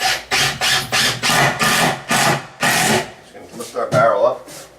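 A power screwdriver drives screws into a wooden board while installing wine room cabinetry, a series of short whirring bursts in quick succession, close and fairly loud.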